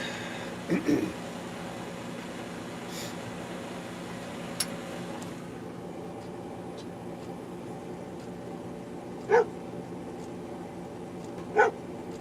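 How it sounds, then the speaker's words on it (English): A dog barks somewhere off in the distance during a winter morning livestream, with a few brief, faint single barks spaced seconds apart over a steady room hum. "I hear a dog barking"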